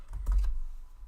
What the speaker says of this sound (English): And then we start by typing.